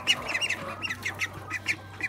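Young, fast-growing ducks quack in a series of short, nasal calls spaced fairly evenly, with one bird's foot injured; moderately close, with no talking.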